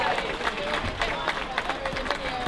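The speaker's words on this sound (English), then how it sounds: "Give him a big round of applause" A crowd at an outdoor anti-war demonstration in Newport applauds Jeremy Corbyn MP, a steady dense patter of clapping mixed with murmuring voices and scattered cheers throughout.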